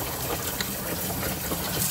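Water runs hard from a tap inside a mobile home, a strong, steady gushing hiss heard close up for a couple of seconds without speech.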